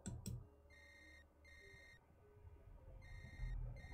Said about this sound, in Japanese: KK は携帯電話を取り出した